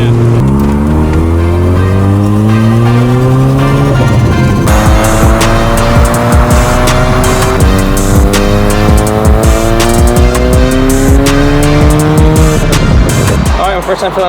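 A rebuilt Mazda RX-7 drives hard on the road, its loud engine climbing through rising gear pulls with a shift around the four-second mark, while faint voices sit under the close, constant drone.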